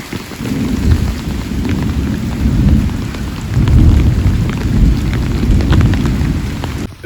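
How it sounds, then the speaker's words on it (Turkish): Heavy rain pours down during a thunderstorm on the road to Salento in Colombia's coffee region, a loud continuous roar with deep rolling thunder swelling and fading underneath. "Yağmura yakalandık."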